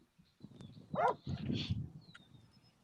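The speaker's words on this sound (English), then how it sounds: "Jeff, it sounds like you're getting chased by dogs" Dogs bark and whimper in the background of a phone call, a few short, fairly faint yelps and barks over a couple of seconds with light room noise.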